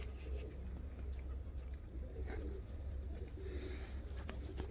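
Fancy show pigeons coo softly over a low background rumble, with a few faint calls and light rustles, distant rather than close.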